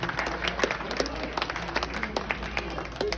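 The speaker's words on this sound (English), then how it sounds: "So let's give it a nice round of applause." Wedding guests clap for a groom's first dance with his mother, a dense patter of applause at moderate distance with crowd murmur and some voices underneath.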